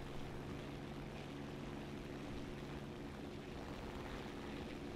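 Propeller fighter planes from War Thunder, including a BF-109, drone with a steady engine roar that stays loud and constant throughout, with no talking.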